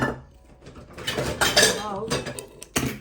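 Food going into a bowl while soup is prepared, heard as clinking dishes and scraping cutlery, with a few sharper knocks over about three seconds.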